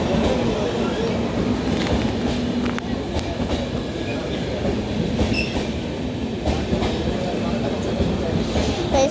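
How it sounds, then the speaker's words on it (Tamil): A train arriving at a station, its steady rumble and clattering wheels loud and close for the full stretch, with faint squeals and a voice talking over it. "ட்ரெயின் இப்போ தான் வந்துருக்கு"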